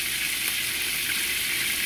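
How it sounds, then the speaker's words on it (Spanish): Garlic sizzles and fries steadily in hot oil in a pan alongside bay leaf, a continuous bright crackling hiss close up with no talking. "Y este ajito se lo voy a agregar ahí para que se vaya friendo"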